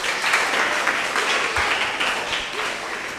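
Applause for contestants at a school contest, a steady wash of clapping from a crowd sustained throughout at moderate level with no voices standing out.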